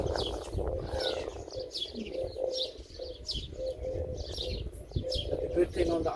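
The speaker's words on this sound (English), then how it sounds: "You can hear the sound of the bird." Birds chirp and coo on an island wildlife reserve in the Abu Dhabi area. Repeated short calls come from a moderate distance over a low, rumbling background, with a voice talking faintly underneath.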